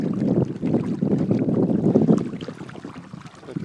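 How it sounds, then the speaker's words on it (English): Wind buffets the microphone while sailing a kayak, a loud, continuous rushing gust with water movement beneath. "wind is picking up now."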